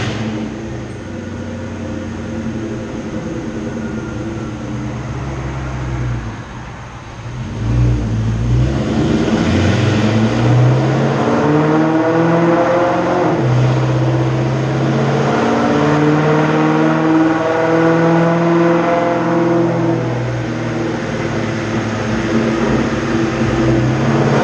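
A Mustang engine pulls hard on a naturally aspirated run with no nitrous, its note rising steadily through the gears in a loud, close acceleration, with a short lull before revs climb again and hold high.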